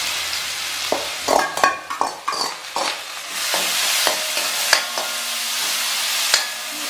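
Crushed onions and chillies hit hot oil with popped mustard seeds for Kerala-style tapioca dry fry, a loud burst of sizzling with clattering spoon strokes early on, settling into a steady frying hiss punctuated by occasional scrapes.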